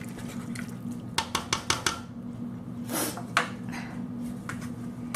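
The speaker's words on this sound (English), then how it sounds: "So I'm just going to stir in these peas." A spoon stirs peas into a thick pot of corned beef vegetable soup, producing a quick run of five clinks and scrapes against the pot, then a soft wet swish and a few lighter taps.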